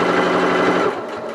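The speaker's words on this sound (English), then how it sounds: "I'm going to back tack, sew down to the underarm seam" A sewing machine runs in a quick, close burst while stitching down to an underarm seam, then slows toward a stop.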